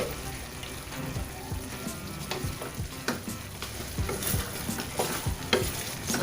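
Chicken adobo being stirred in a frying pan, continuous sizzling broken up by repeated scraping and clacking of the utensil against the pan, heard close up.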